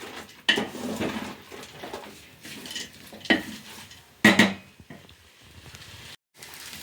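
Rice and dal with spices and vegetables roast in a pan, stirred with a spoon that scrapes and clinks against the metal in irregular bursts, close and fairly loud, with no one talking.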